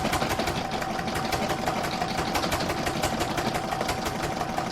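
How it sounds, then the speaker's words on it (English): An embroidery machine stitches quilting onto a gift box design, giving a steady, continuous mechanical whir with fast rapid needle pulses. It runs close and even throughout, with no talk. "I'm now going to pop it back in my machine, and I'm going to stitch round number 5, which is the quilting on the box area"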